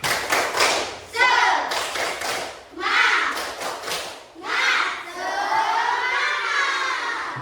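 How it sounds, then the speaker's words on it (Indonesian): Classroom of students performing the 'tepuk semangat' rhythmic clapping chant as an ice-breaker, several bursts of group clapping and shouted chant lines, loud and close, with children's voices throughout. "Yuk, tepuk semangat."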